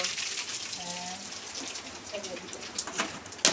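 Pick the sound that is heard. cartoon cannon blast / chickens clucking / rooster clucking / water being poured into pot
water being poured into pot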